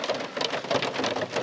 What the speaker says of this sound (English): The rain just falls a bit harder.